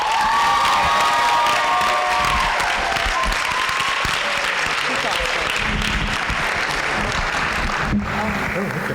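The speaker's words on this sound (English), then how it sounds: "It is with thundering horseman applause" Loud, sustained audience applause with cheering and whoops at a tenure recognition ceremony for an educator, a full crowd clapping continuously with some voices calling out.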